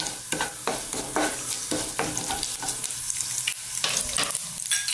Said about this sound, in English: We just want to infuse that little bit of oil. They'll start to crack and pop.